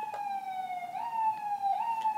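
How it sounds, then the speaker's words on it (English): A police siren in New York wails faintly in the distance, a steady tone that rises and falls slightly over a couple of seconds. "New York sirens, please forgive them."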